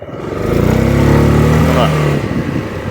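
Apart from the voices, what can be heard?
ADX TG400 scooter engine accelerating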